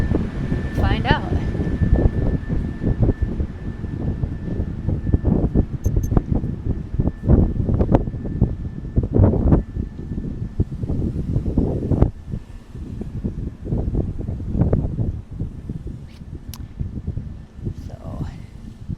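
Steady wind buffets the microphone on an open cruise ship deck at sea, a constant rushing roar with gusty swells throughout the clip.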